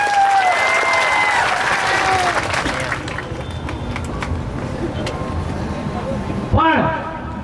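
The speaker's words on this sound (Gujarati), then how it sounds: "એવા હજારો કાર્યકર્તાઓ માટે એકવાર જોરદાર તાળીઓ થઈ જાય." A large audience at a speech breaks into loud, sustained clapping mixed with cheering and whistles, steady for several seconds before thinning out, with a brief burst of shrill whistling near the end.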